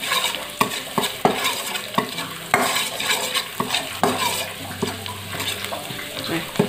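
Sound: crushed garlic frying in a pan

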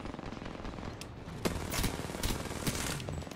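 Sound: gunfire in a sniper video game

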